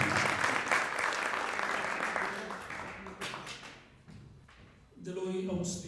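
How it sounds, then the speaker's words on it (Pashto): An audience at a cultural gathering applauds, with loud, dense clapping that fades over several seconds and then swells briefly again near the end. A speaking voice comes in as the clapping thins. "چکچک له قوي ورته کوي"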